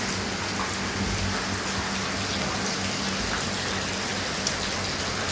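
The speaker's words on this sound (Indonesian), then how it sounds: "lihat pohon bagus disiram dengan air hujan." Steady rain pours on a tree outdoors, a dense, even hiss of drops and spatter with a low rumble underneath, continuous throughout and free of any voices.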